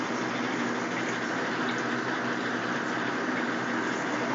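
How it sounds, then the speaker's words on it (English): A large aquaponics siphon drains water from a grow bed, giving a steady, continuous rushing gurgle of flowing water that holds even throughout, close and moderately loud with no talking. "It's already siphoned about 1/3 of that water out, so these big siphons really seem to hammer it down."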